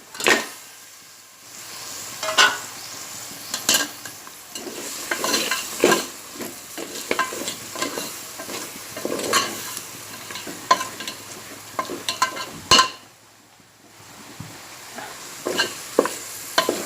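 Boiled mutton sizzles and fries in spices in a hot pan while a spoon stirs and scrapes repeatedly, with bursts of crackling and clinks of the utensil; no one talks.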